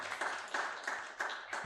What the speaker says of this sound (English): Let's give a big hand clap and thank him.